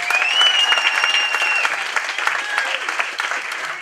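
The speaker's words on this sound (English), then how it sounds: "Give her another round of applause." Audience applause from a comedy crowd, a dense steady patter of many hands clapping close and loud for several seconds, with some whistles and a cheer mixed in.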